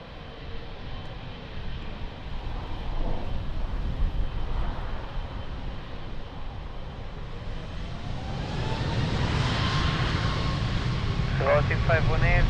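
An airliner's engines roar and build in a long, steady wash as it takes off from runway 02 at Lisbon Airport, with radio talk over the noise.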